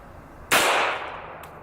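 A single loud .45 ACP full metal jacket gunshot fired at a lead block, one sharp crack followed by a brief fading ring and a faint metallic tick shortly after.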